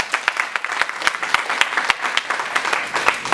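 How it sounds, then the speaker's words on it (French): An audience claps warmly at a training ceremony for young agricultural entrepreneurs, a close, dense burst of applause with sharp individual claps standing out throughout. "Donc, vos applaudissements pour les membres de YSL Agri-Up, s'il vous plaît."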